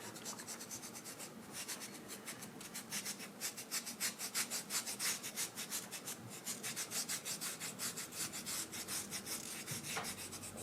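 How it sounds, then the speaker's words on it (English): A pinch of coffee pigment is rubbed by hand into a kolrosed wooden spoon, making quiet, steady back-and-forth scratchy strokes in a fast even rhythm, close and alone without talk. "I'm just gonna take a little pinch of coffee and rub it in."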